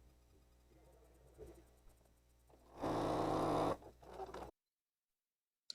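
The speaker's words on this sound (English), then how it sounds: "And here I'm sewing the whole row," A sewing machine stitching a full row of quilt triangle halves, with a loud, steady whirring run of about a second after quieter handling noises, then sudden silence.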